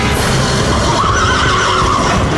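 A horse neighs loudly and close for a couple of seconds, a drawn-out whinny rising over a dense, noisy dramatic background, with no voices.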